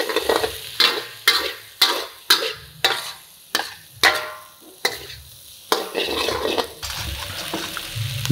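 Soft vegetables hitting a hot wok for char kway teow, a series of sharp tossing scrapes roughly every half second, each followed by a burst of sizzle, ending in steady frying.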